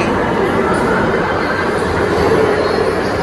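Loud, steady rumble of a metro train arriving at a station, a constant roar of wheels and motor close by with no pauses.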